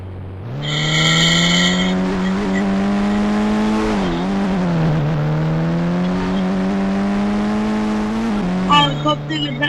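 A car in the mobile driving game Indian Bike Driving 3D revs with a steady engine drone that rises and dips as it accelerates and turns, ending in a short tire screech; a voice talks faintly underneath.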